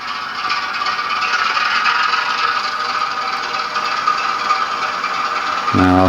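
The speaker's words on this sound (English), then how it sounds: "there is a train running on that line" A Bachmann 08 model train clatters and rattles steadily along its track, a continuous metallic whirr with a brief louder rumble near the end.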